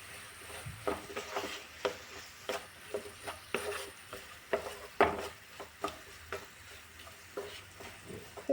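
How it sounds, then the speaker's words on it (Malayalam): Brinjal being stirred with salt in a pan, a soft continuous sizzle under repeated scraping and tapping strokes of a spoon, close and without voices. "നല്ല രീതിയിൽ ഒന്ന് മിക്സ് ചെയ്ത് കൊടുക്കാവേ"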